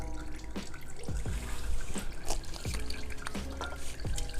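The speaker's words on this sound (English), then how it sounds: "And let it drip for a bit because it will make a mess." Engine oil dripping from a Honda CBR 600RR sportbike during an oil change, a series of single drops falling at slow, fairly regular intervals over a steady background rush.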